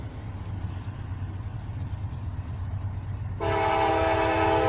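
A Norfolk Southern freight train led by a new SD70ACe locomotive with a BNSF unit and an SD40-2 rumbles past at close range, its horn blaring loudly and steadily over the engine roar near the end.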